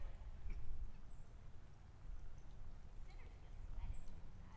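Horses' hooves clip-clop in a slow, uneven rhythm of soft low thuds, with faint bird chirps above.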